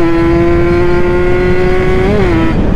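A Ninja motorcycle engine is held at a loud, steady, high-pitched rev close by, its pitch rising briefly before it drops back near the end.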